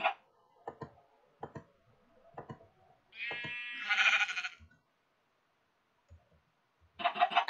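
Sheep bleating in the Minecraft video game: several short bleats sounding alone in a quiet scene, with sparse clicks in between and a final burst of bleating at the end.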